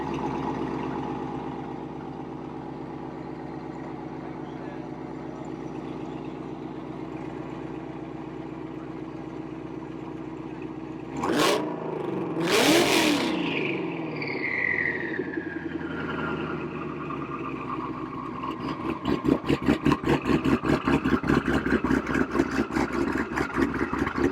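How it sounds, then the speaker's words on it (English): Ford Mustang with active exhaust at a classic Mustang car show, idling low before a sharp burst as drag mode opens the valves, then a loud, choppy lopey idle with a pulsing ghost-cam rhythm close by. "I'm going to open it up and go to drag mode"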